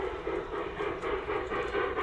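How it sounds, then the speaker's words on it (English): A model railroad train runs around a Colorado-themed layout, giving off a steady low rumble and clatter of wheels on track at moderate distance. "So, let's hop on board this train and take a circuit."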